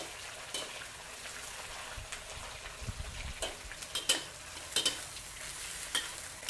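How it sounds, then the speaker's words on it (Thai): Shrimp fry in hot lard in a pan, a continuous crackling sizzle with scattered stirring scrapes and clinks of a utensil against the pan, close and moderately loud with no voices. "ทอดให้กุ้งมันซาแบบสะดุ้งสะดุ้งน้ำมัน จริงๆน้ำมันมันต้องร้อน ๆ แบบลงไปแล้วชา เดือดเดือดเนี่ย"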